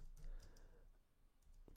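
Typing on a computer keyboard, a brief faint run of soft key clicks close by with no talking.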